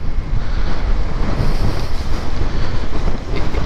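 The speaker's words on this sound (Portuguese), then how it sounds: "E tá ventando demais mesmo." Loud, constant wind from Storm Emma buffeting the microphone, a thick roaring rumble with no pauses and no voices.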